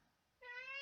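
A kitten gives a single short, bright meow, close and fairly soft, rising out of near-silence halfway through with no talking over it.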